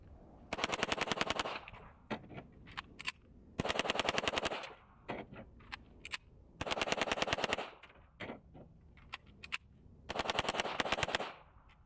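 Rapid strings of shots from a Hi-Point JCP .40 pistol being fired through magazines, loud and close, in fast bursts separated by pauses and a few single reports, with no talking.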